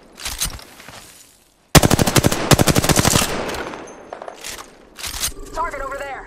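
Automatic gunfire in the video game Apex Legends: loud, rapid bursts of shots, a short pause, then a long rattling volley and a few more sharp bursts, with game sounds behind.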